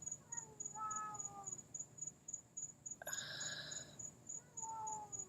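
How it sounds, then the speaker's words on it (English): A cat gives drawn-out, wavering moans at a distance, several calls spread apart, over a steady high insect drone and quiet outdoor background. "There's been this cat that's been moaning."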